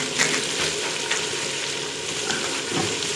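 Biryani masala going into a hot pan with tomatoes and green chillies, a continuous close sizzle and crackle with small bursts of spattering.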